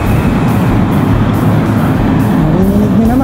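A bicycle tire fitted with Tektro brakes skids on pavement during a hard brake test, a loud steady scraping rush under wind noise, with a rising squeal toward the end.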